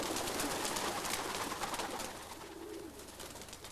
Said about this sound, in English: pigeon fancier Jim Nicholson arrives at his loft to let his pigeons out for their exercise